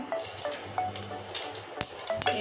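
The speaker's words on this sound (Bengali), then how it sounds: "ফোড়নে দিয়ে দিচ্ছি জিরে ফোড়ন" Cumin seeds sizzle in hot oil in a Bengali home kitchen, a steady, soft crackle with scattered sharp pops and light stirring clicks.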